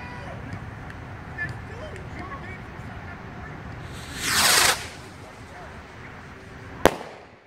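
A 2017 consumer sky rocket firework bursts overhead: a broad whooshing crackle swelling for under a second, then a single sharp distant report, over background outdoor noise.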